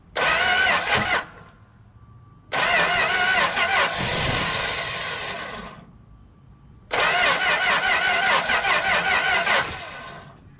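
A 1964 Plymouth Belvedere with a Holley two-barrel carburetor cranks and catches three times in a row. Each start bursts out loud and close, runs rough for a few seconds, then cuts off into brief silence.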